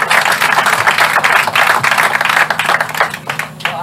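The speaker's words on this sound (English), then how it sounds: "Let's a round of applause for Ms." An outdoor crowd at a community park event applauds a bank representative, loud close clapping in a continuous patter with a faint low hum underneath.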